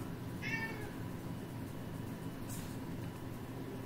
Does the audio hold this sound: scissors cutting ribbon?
no